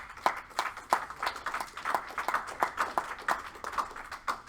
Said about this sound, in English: ask you guys to give yourselves a round of applause for being here